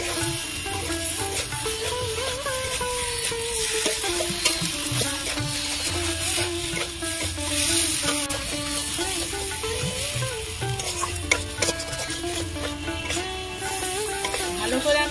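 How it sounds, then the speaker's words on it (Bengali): Potatoes sizzle and fry in spicy gravy for aloo kosha, with a steady sizzle under spoon scrapes and rattles, and music playing throughout. "আলুগুলো গ্রেভির মধ্যে দিয়ে দিয়েছি, ভালো করে কষিয়ে নেব।"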